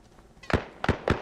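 Three sharp artillery blasts in Arma Reforger, loud and close together, cracking out one after another over a quiet background with no talking.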